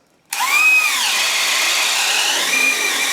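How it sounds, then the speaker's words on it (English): A power drill with a 1-inch self-feeding wood bit spins up and bores through a 2x4, a loud steady whine with pitch bends as the bit loads, continuing alone after a sudden start. "drill a hole in the 2x4 and see how it does"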